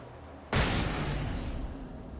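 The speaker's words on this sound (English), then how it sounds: "Flashbang out, flashbang out!" A flashbang grenade in Alan Wake Remastered bursts with one sudden loud bang, followed by a long hissing, ringing decay that fades slowly.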